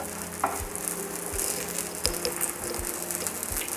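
Vegetable pocket paratha cooks in ghee on a pan, giving a steady close sizzle with a few soft taps and clicks as it settles.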